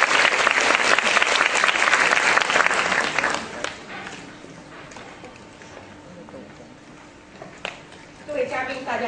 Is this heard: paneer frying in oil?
no